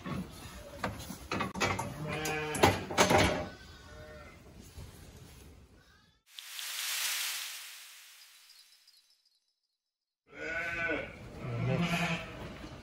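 Sheep ewes on a farm bleat several times, close and fairly clear, with a long hissing spray burst partway through and quiet gaps between calls.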